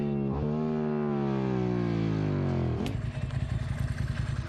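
A motorcycle engine on a night road holds a steady drone, then revs up and roars off rougher and closer.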